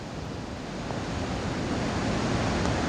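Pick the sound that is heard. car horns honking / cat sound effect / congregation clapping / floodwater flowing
floodwater flowing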